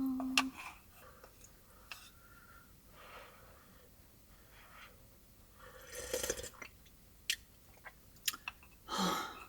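Someone eats rice cake and dumpling soup in a camper car with a wood stove on a freezing winter camping trip, chewing softly and close with slurps, breaths and occasional louder bursts, no talking.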